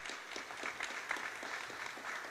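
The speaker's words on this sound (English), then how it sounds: "So just a big round of applause for our partners here." Faint, distant audience applause at a City of Jacksonville event ahead of the Florida-Georgia football game: a brief, even patter of clapping that stays quiet throughout.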